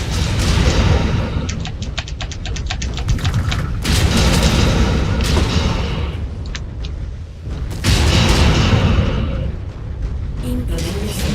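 Incoming missiles explode around a mech in MechWarrior 5, loud booming blasts and rumbling detonations pile up over a constant roar, with rapid clicking bursts between them.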